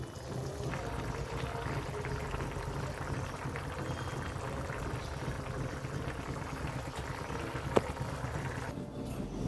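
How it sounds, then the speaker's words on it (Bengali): Hot water poured into a pan of fish curry with mustard paste, a soft continuous pouring and bubbling sound, faint and steady, with a brief clink near the end. "এখন এটাতে গরম পানি দিয়ে দিব"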